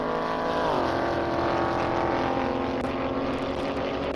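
A Dodge Durango Hellcat and a Nissan GT-R launch side by side in a drag race on an airstrip, a loud, sustained engine roar with a pitch shift early on as the revs climb, steady and dense throughout.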